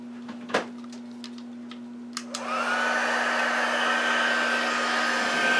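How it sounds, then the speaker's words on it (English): A craft heat tool blows steadily while melting clear embossing powder on a card, its broadband whoosh starting after a few light taps and clicks and holding loud and close to the end. "Let's bring in our heat tool."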